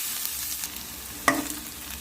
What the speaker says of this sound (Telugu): మనకి ఉల్లిపాయ పచ్చివాసన పోయేంత వరకు వేపేసుకుంటే సరిపోద్ది